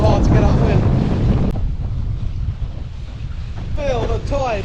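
Strong wind buffets the microphone while windsurfing across the Solent, a loud steady roar with water rushing beneath the board and faint voices breaking through now and then.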